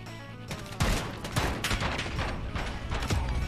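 Rapid bursts of automatic gunfire in Call of Duty: Modern Warfare, loud and close, several sharp volleys in quick succession with no talking.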